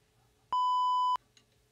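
A single steady electronic beep, loud and pure-toned, sounds for over half a second against near silence.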